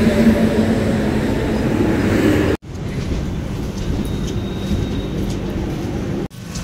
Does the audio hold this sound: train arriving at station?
yes